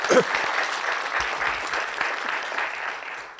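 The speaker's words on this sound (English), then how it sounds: "Ryan, a round of applause." An audience at a neighborhood council workshop applauds in a steady, dense wash of clapping that holds for a few seconds, with a brief voice near the start.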